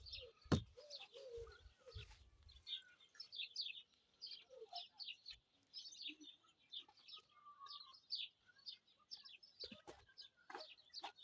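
Faint, repeated bird calls and chirps from a distance, with a few short low knocks near the start.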